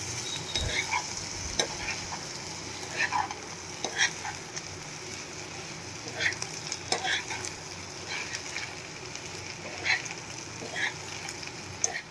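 Sabudana khichdi with lemon juice and fresh coriander being mixed in a pan, repeated spoon scrapes and taps over a low, constant sizzle.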